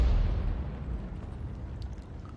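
A tank gun fires at a Conqueror in World of Tanks, a deep, heavy boom opening the moment and rolling into a long, low rumbling decay that fills the rest of the short stretch, with no talking over it.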